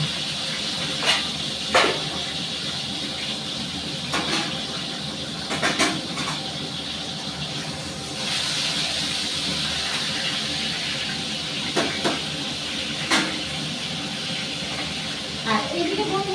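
Food fries in a large wok with salt and turmeric, making a continuous hissing sizzle with occasional sharp clatters of utensils, steady and fairly close.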